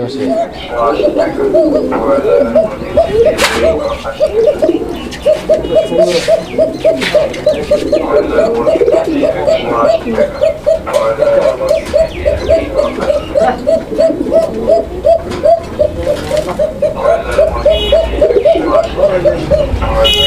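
Lahori Shirazi Koka pigeons coo in a steady, repetitive rhythmic burble close by, continuing throughout while someone talks over them.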